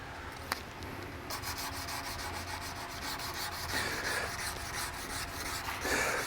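A Damascus steel chef's knife blade is hand sanded with 220 grit paper in rapid, rhythmic back-and-forth rasping strokes, close and steady, with one brief tap near the start.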